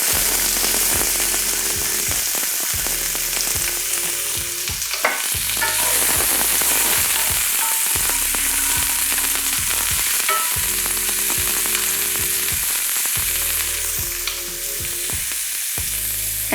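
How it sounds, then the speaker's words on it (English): Roughly chopped onion sizzling in a hot pan, a loud steady close frying hiss with stirring scrapes throughout, alongside quiet background music and no talk. "At this point, I'm going to add our onion, which I just roughly chopped really quickly."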